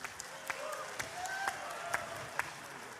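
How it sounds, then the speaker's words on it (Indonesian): An audience at the ICMI Silaknas gathering applauds for Anies Baswedan: a moderate patter of clapping from a seated crowd, heard behind a voice speaking over it for a few seconds. "Tepuk tangan buat Pak Anies Baswedan."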